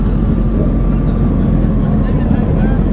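A motorcycle engine runs at a steady low rumble at a nighttime motorcyclist meetup in Washington, DC, a loud continuous drone with wind buffeting the microphone and voices in the background.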